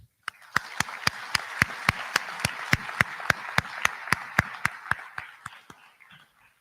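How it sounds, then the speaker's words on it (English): A commencement audience at a high school graduation claps in steady unison, sharp evenly spaced beats over a soft wash of scattered clapping, fading out after several seconds. "Let's give a round of applause for all the people who have helped us to get to where we are today."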